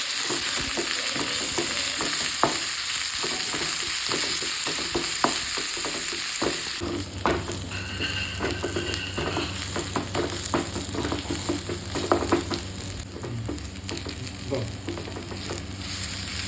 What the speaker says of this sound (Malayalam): എണ്ണയിൽ കടുക് ചുവന്ന മുളക് പച്ചമുളക് ഉള്ളി ഇവ ചേർത്ത് നന്നായിട്ട് മിക്സ് ചെയ്യുക